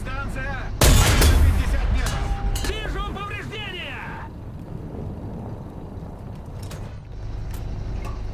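A single heavy cannon shot from a Russian premium tank in a combat video game booms out loudly, then gives way to whining engine and mechanical tones over a steady rumble.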